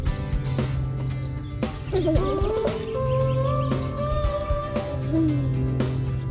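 A rescued bird, saved from drowning in a backyard swimming pool, chirps in short faint calls close by, with several brief tweets under steady background noise and occasional voices.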